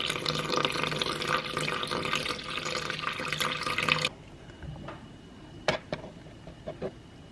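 Water pouring steadily into a dough mixture in a home kitchen for 300 ml, a continuous splashing stream that stops abruptly, followed by a few faint drips and small clicks.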